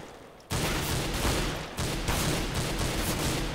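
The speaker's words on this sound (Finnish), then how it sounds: "sitten minä ammun täältä yläkerrasta" Gunfire from Counter-Strike: Global Offensive erupts suddenly and keeps going as a dense, continuous volley of rapid shots, loud and close, with no voices.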